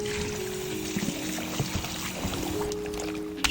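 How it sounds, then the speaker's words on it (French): Chicken gizzards being rinsed under running water, a steady pouring and splashing wash with occasional handling knocks, close and continuous. "je cherche également à laver mes gésiers de poulet"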